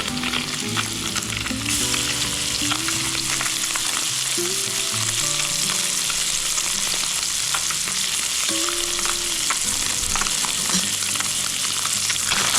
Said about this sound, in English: plop it in and listen to that sizzle